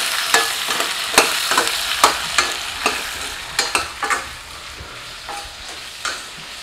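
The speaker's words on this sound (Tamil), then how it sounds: "இது கூடவே ஒரு நாட்டு தக்காளி நறுக்கி வச்சதை சேர்த்துக்கலாம். இதையும் சேர்த்து லேசாக வதக்கி விட்டுக்கலாம்." Radish and chopped country tomato are stir-fried in a hot pan, with repeated sharp scraping strokes of a spatula over a soft, steady sizzle. No one speaks.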